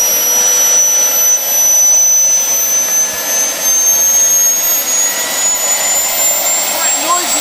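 A Wren model jet turbine engine idling at an open day, giving a loud steady roar with a high whine running throughout, close by and without pauses.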